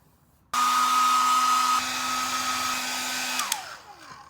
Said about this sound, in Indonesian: aku mau hair dryer lagi